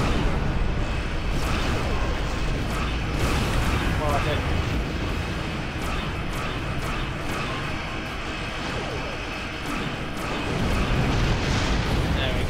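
Rumbling torpedo blasts in a space combat video game, a run of heavy booms and roars over a constant hum, with voices talking over the action.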